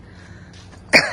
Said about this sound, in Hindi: और मेरी खांसी पता नहीं कब ठीक होगी।